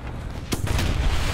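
Tank cannon fire and an ammunition rack explosion in a tank video game: a sharp loud blast followed by a sustained rumbling roar of the detonation, heavy and close.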